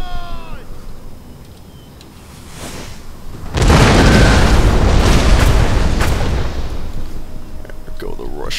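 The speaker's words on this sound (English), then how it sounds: "There go the Russian artillery." Russian artillery batteries firing on a fortress in Empire Total War, a sustained broadband rumble of massed booms that swells in at once and holds loud for several seconds before easing slightly.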